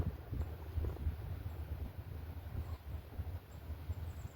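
A heavy train slows on a hill in a snowy setting, producing a low, steady rumble of wheels and engine with wind noise over it, continuous and moderately distant.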